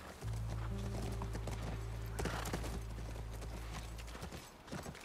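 Horse hooves clip-clopping in The Last of Us video game, a steady run of close hoofbeats over a low droning game soundtrack, with no talking.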